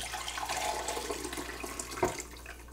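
Cooking liquid from a slow-cooker beef stew is poured into a container, giving a steady close trickle and splash with a brief louder knock near the end.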